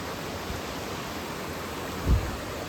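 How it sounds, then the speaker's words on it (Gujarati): A mountain stream near a waterfall on a trek in Nashik, Maharashtra flows as a steady, broad rushing wash of water, close and constant, with a single soft low thump near the end. "હજુ ધોધ સુધી તો નથી પહોંચ્યા પણ ઝરણા સુધી પહોંચી ગયા. જો આ ઝરણું."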